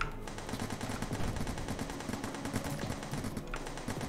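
Sustained video-game gunfire, a dense run of rapid shots blending into a continuous rattle at steady volume with no voices over it.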